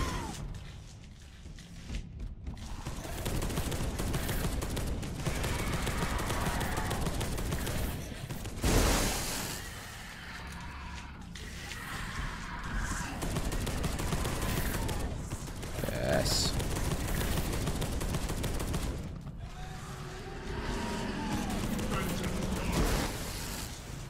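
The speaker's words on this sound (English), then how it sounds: "Where are these shots coming from?" Gunfire in Space Hulk: Deathwing rattles in repeated bursts across a long stretch, mixed with game noise and effects, and people talk over much of it.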